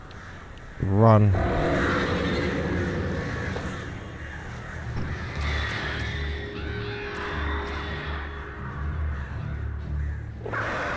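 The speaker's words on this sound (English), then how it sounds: "Hate those stupid birds." Crows caw in the dark woods of Alan Wake Remastered: one loud, close caw sounds near the start, then eerie game ambience and low rumbling carry on beneath it. A voice speaks one brief word.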